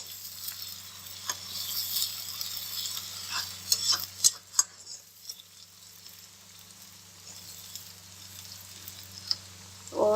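Garlic, ginger and green chilli paste sizzles quietly in a hot pan with a steady frying hiss, punctuated by a few sharp clicks and ticks near the middle and a louder clatter at the very end.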